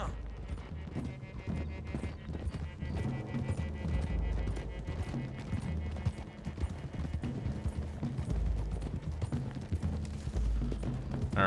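Several horses gallop together in Red Dead Redemption 2, their hooves drumming in a fast, continuous clip-clop that stays close and loud throughout, without a break.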